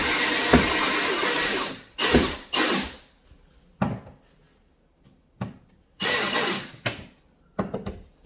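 A power drill fitted with a screwdriver bit drives screws to install a metal plate for a magnetic knife holder, giving several short loud whirring bursts separated by pauses, with small clicks and handling noises between runs.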